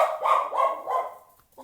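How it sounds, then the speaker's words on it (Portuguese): Dogs bark several times in a quick, steady series close by, indoors in a shop setting where customers are being served, then the barking fades into quiet. "Desculpa meus cachorros aí."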